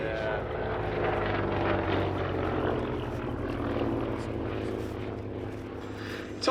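A Hawker Nimrod biplane fighter drones overhead at the Duxford airshow, its piston engine a steady, fairly distant hum that swells and fades slightly, with faint crowd noise underneath.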